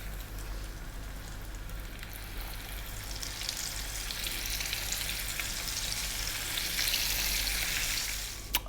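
Six-spice fish pieces frying in hot oil, a steady crackling sizzle that builds gradually and grows brighter toward the end, ending with a small sharp knock.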